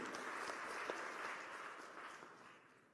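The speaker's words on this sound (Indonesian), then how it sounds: "Tepuk tangan yang meriah bagi Tuhan." A church congregation applauds during a sermon, a steady wash of distant clapping that slowly fades out.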